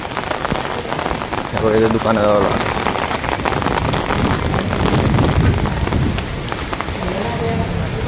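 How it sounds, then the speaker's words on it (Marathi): Heavy rain pouring outside near a shop in the Konkan hills on a trip to Machal, a dense, steady wash of drops hitting surfaces, loud and continuous, with people talking over it. "आणि पाऊस पण पडतोय बाहेर."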